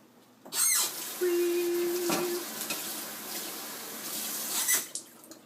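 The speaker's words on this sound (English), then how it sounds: "We're going to rinse our broccoli off real quick." Broccoli is rinsed under a running kitchen tap, a broad hissing water stream that starts, briefly pauses and resumes close by, with light handling clatter and no speech.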